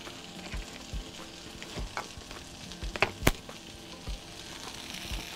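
A fish fillet sautés in a pan over vegetables and broth, a soft steady sizzle broken by scattered light clicks and taps of stirring, close and fairly quiet.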